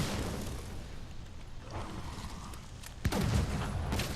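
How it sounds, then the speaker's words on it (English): Light bowgun firing in Monster Hunter World during a fight with Arch Tempered Lunastra, a rumbling barrage of shots with a sharp, louder blast near the end, close and dense. "And I'm shooting her in the head."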